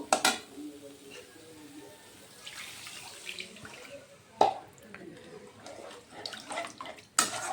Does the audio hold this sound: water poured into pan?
yes